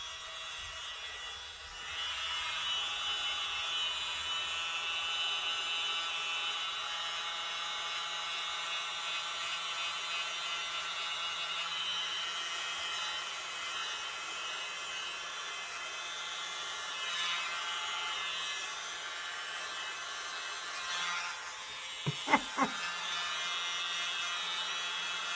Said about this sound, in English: Baby blower.